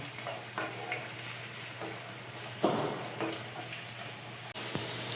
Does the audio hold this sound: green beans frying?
yes